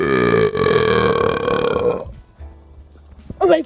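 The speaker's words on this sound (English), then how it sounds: "And then you burp." A person lets out a loud, drawn-out burp lasting about two seconds. It is followed by near silence and then a short voiced sound at the end.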